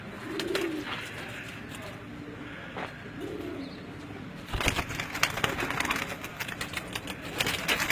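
Soft, low pigeon coos sound in short bursts amid quiet outdoor background noise, with rustling and faint shuffling growing louder toward the end.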